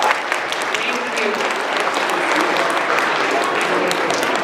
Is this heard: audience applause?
yes